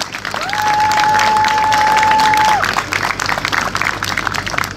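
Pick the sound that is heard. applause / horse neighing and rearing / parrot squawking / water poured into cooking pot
applause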